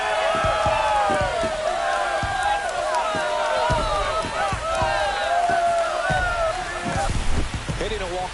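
A home crowd at a Cardinals–Rays baseball game roars continuously after a walk-off home run, a dense sustained wash of cheering with a broadcaster's voice talking over it.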